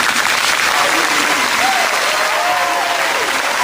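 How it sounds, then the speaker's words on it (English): Loud sustained applause from a crowd at a high school graduation ceremony, interrupting a valedictorian's spoken prayer, with a faint voice audible beneath the dense clapping. "interrupted by applause"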